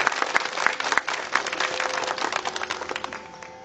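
An audience claps in applause for a group of gurukul students at a stage event, a dense burst of many hands that holds strong for a few seconds, then thins and fades.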